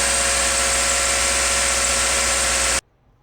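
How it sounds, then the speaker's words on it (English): A Subaru engine with a new serpentine belt, tensioner and idler pulleys idles with a steady, smooth hum and low even vibration, close by, then cuts off abruptly into near silence. "This is the engine running, nice and quiet now."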